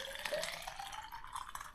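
Water poured from a tap into a 750 mL bottle with about a gram of salt for a homemade electrolyte drink, a short steady splashing fill that rises slightly in pitch, close and quiet.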